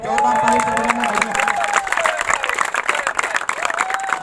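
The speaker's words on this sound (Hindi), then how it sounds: "जोरदार ताली से अभिनंदन" A crowd at a village cricket tournament final claps and cheers loudly for an umpire being honored, dense applause mixed with shouts while a voice speaks over it.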